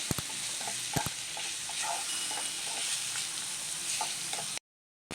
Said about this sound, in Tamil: மெலிசாக கட் பண்ண தக்காளி இதையும் சேர்த்து நல்லா வதக்கிக்கலாம்.